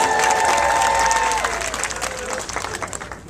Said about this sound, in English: Let's give Sister Libby a round of applause.